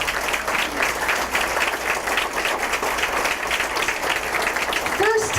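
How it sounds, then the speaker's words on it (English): A crowd at a political rally applauds farm workers, sustained clapping and cheering that stays steady, with a voice rising briefly near the end. "Give them a big round of applause."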